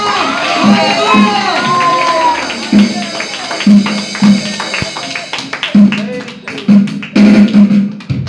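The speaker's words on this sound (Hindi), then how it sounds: "चलो ताली परमेश्वर को बजाइए।" A church congregation claps along in a steady rhythm during a Christmas sermon, the claps mixed with loud crowd voices, shouts and a speaking preacher.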